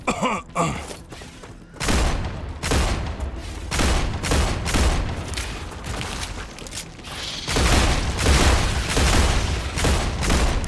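Loud, sustained gunfire in the sci-fi game StarRupture, heavy volleys of shots and booming impacts hammering in close succession with only brief lulls, no talking.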